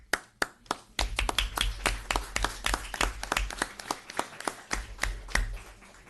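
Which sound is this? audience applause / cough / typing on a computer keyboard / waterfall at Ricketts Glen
audience applause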